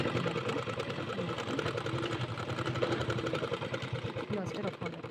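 A sewing machine stitches fabric in a tailoring class, a fast continuous mechanical whir and rattle running close up for the whole stretch, with a voice speaking over it.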